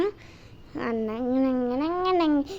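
A cat gives a long, drawn-out meow with a wavering pitch that rises and falls, fairly close and clear against a quiet room.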